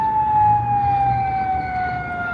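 A loud, steady emergency vehicle siren tone holds and slowly falls in pitch over low road rumble near Fremont Street, Las Vegas, close by and without any voices.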